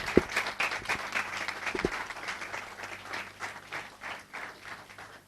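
An audience at an IAS coaching institute event applauds a rank-three IAS speaker, a continuous moderate patter of many hands with a few louder claps near the start, heard at a slight distance.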